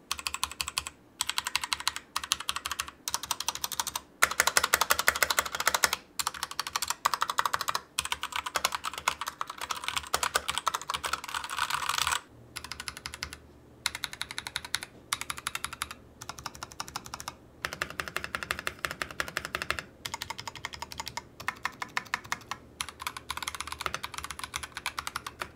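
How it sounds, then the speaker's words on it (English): Steady typing on a modded Royal Kludge RK68 mechanical keyboard, close and alone: dense runs of keystroke clicks broken by short pauses, played as a before-and-after sound test. "This is how that RK68 sounds before and after."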